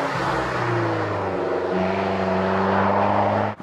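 An Alfa Romeo 4C sports car with a 1.8-litre turbo engine pulls hard with its engine loud and close, the pitch climbing steadily through a gear before the sound drops away sharply at the end.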